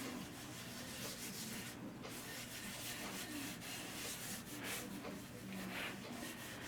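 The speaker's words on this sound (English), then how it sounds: "What I'm going to do now is apply Yorkshire grit to get the required finish that I'm looking for, or pre-finish." Yorkshire grit abrasive is worked over a spalted crotch figured maple bowl during woodturning, making a steady, continuous close-up rubbing and sanding hiss that does not let up. No one speaks.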